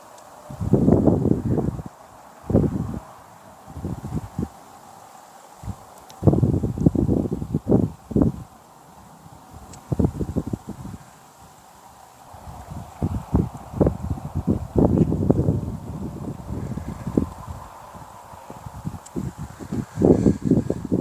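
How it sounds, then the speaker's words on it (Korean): Strong gusty wind at a fishing spot buffets the microphone in loud, irregular bursts with quieter gaps between gusts, rustling close by throughout. "바람이 꽤 강한 바람이 돌풍처럼 한 번씩 돌아부는데도"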